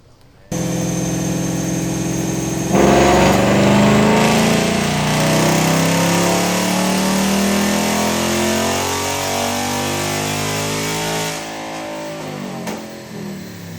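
A 2024 Ford Mustang GT with a Whipple supercharger starts up close by and revs, a loud deep engine roar with a rising supercharger whine that holds steady before settling toward idle.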